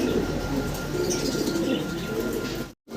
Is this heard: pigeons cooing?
yes